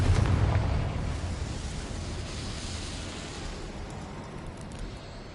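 A Confringo explosion spell goes off in Hogwarts Legacy: a heavy blast opens loud at the start, then decays into a long rumbling, crackling tail with no voices over it.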